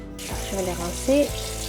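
Tap water running into a kitchen sink while potatoes are rinsed, a close, steady splashing stream with a short louder gush near the end.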